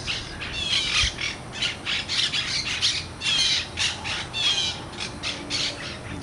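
A flock of wild parrots perched in backyard oak trees squawks repeatedly, overlapping harsh calls in a rapid, uneven series that continues throughout.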